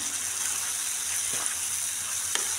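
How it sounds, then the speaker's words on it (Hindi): Achari chicken with pickling spices fries in a pan, giving a steady, even sizzle up close with a couple of faint stirring knocks and no voices. "और अब हम इसमें वो तमाम मसाले जो अचारी मसाले थे वो हम इसमें शामिल कर देंगे और आपने इसको अच्छी तरह से जो है वो भून लेना है"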